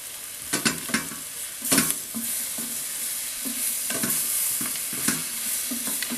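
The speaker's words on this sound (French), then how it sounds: "Je rajoute mes champignons et je vais pareil les faire cuire." Mushrooms fry in a pan with softened, lightly golden onion and garlic, a steady close sizzle broken by repeated scraping stirs of a utensil, with no talk.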